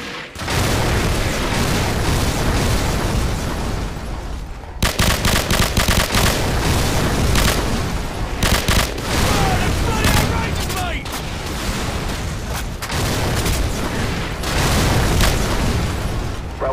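Call of Duty 4 mission 'Hunted' with an air support fire mission against enemy armor and infantry, delivering loud sustained booming explosions and rattling gunfire bursts that continue throughout after a brief gap near the start.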